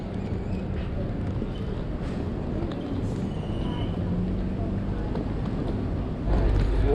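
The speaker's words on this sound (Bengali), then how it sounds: "তো এই স্পিড বোটটা করেই আমরা যাব ধুলাগুড়ি আইল্যান্ডে।" A speed boat carrying passengers toward Thulhagiri island in the Maldives gives a steady, loud rumble of engine and water rush. Wind buffets the microphone throughout, and a low thump rises near the end.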